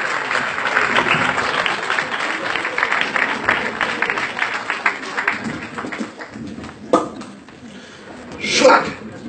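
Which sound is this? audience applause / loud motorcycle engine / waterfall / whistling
audience applause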